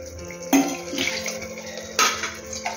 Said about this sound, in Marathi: आपण त्यात गरम पाणी टाकू.